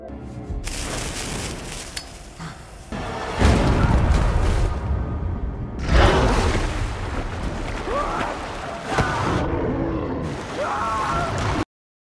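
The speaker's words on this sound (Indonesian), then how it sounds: "ledakan terjadi lebih awal dari yang diperkirakan" Several heavy booming explosion blasts inside a cave with sloshing, reverberant rumble, arriving in bursts over a steady low background.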